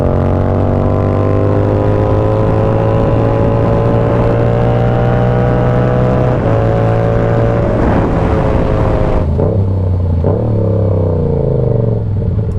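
A Yamaha R7 motorcycle accelerates through the gears, a loud close engine howl rising steadily in pitch, then breaking off into quick shifts with brief dips near the end.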